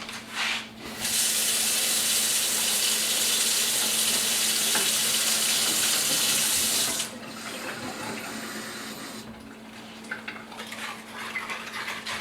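Cold water running from a faucet into chopped hot dog meat for emulsifying, a loud steady hissing stream for several seconds, then quieter clinking and mixing noises of cutlery and a bowl.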